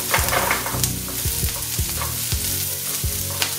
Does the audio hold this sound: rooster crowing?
no